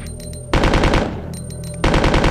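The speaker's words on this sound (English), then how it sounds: "Am I going to use all the ammo on this one zombie?" Rapid automatic gunfire in Resident Evil 2, loud and close, fired at a zombie in two sustained bursts separated by a brief lull, with no voices.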